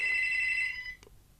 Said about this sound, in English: there's the phone ringing